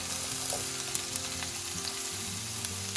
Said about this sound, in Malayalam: ഇനി ഞാൻ അതിലേക്ക് ഇട്ട് കൊടുക്കുന്നത് ചെറുതായിട്ട് അരിഞ്ഞ സവോളയാണ്